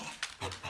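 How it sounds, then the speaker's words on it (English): A Cocker Spaniel and a Pit Bull pant while playing, quick close breathy puffs in a short burst, with no talk. "the Cocker Spaniel against the Pit Bull, and who wins?"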